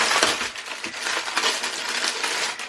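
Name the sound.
rustling of a bag being opened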